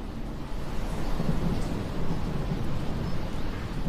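Thunderstorm far out at sea, with a steady wash of rain and low rumbling thunder rolling continuously at moderate loudness throughout, no voices present.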